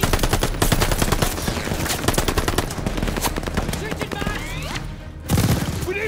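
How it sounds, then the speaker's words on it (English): Rapid machine gun fire in Call of Duty Vanguard, played as dense, loud, continuous bursts of sharp cracks, briefly pausing near the end before resuming, with a voice speaking over the shooting. "Suppress that MG!"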